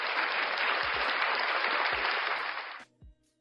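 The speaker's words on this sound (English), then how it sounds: "Applause." Audience applause at a talk, a dense steady wash of many hands clapping for nearly three seconds before cutting off abruptly, followed by a few low thumps.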